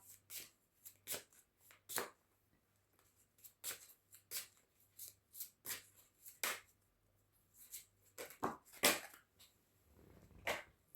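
Oracle cards being shuffled before one is drawn, an irregular run of soft slaps and riffles spread over several seconds, close and faint with no talk.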